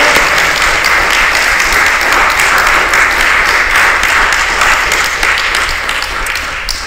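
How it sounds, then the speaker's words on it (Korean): Church congregation applauding together in a steady, dense wash of clapping that fills the room, sustained and loud throughout, with no speech over it. "영광의 박수를 하나님께 드리기로 합니다"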